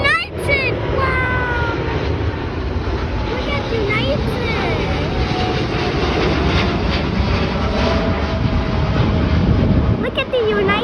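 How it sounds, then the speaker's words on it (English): A United airliner passes at Hong Kong's international airport at night: a loud, steady jet engine roar dominates throughout, while a voice talks over it now and then. "I am starting to hear a plane."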